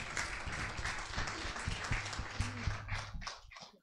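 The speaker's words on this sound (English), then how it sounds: "Let's give a clap offering unto Jesus." A church congregation claps hands together during a Sunday afternoon anniversary service, a steady mass of applause with music or other sound underneath, tapering off near the end.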